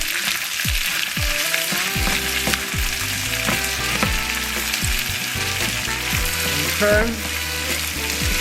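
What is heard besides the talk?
frozen black-eyed peas stirred into sizzling pan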